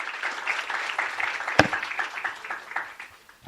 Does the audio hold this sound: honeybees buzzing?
no